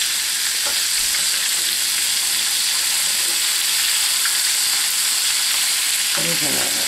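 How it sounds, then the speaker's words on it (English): Breaded chicken Kiev sizzles in a pan partway through about fifteen minutes of cooking, a loud, even, close hiss of fat that runs unbroken throughout, with a few faint clinks near the end. "I want to keep it sizzling good, but I don't want to burn it."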